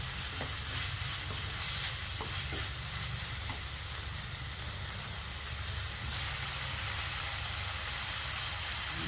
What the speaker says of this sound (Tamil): கொஞ்சம் கரம் மசாலா பொடி போட்டு தக்காளியும் போட்டு நல்லா வதக்கிடும்.